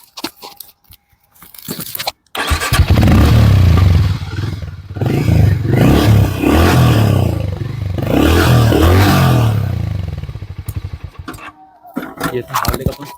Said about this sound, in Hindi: हार्ले डेविडसन का जो थंब है वो थोड़ा सा ज़्यादा डीप और लाउड है